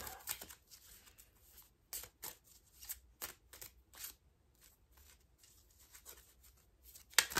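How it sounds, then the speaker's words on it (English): A Life Alignment Oracle card deck is shuffled by hand in a quiet room, with a run of soft, close riffling and flicking bursts at an irregular rhythm over several seconds. "I'll shuffle these a bit more."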